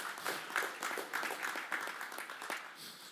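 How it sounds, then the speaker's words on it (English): Staff at a Schenectady County Legislature regular meeting receive a round of applause, a steady wash of clapping from a modest crowd, moderately close and continuous throughout. "Have another round of applause for our wonderful staff"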